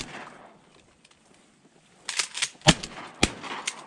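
Shotgun blasts ring out over water while duck hunting from a kayak in Iowa, three sharp, loud shots in the second half following a quiet stretch.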